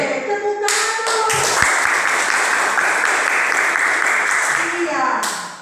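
A class of students claps hands together in a classroom, a burst of dense applause that swells after a brief lead-in of voices and tails off as talk resumes at the end.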